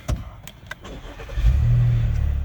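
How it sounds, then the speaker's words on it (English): A Chevy Traverse engine cranks and starts, rising into a steady low idle after a few light clicks, close and fairly loud with no talking. "what we're going to do is turn the car on"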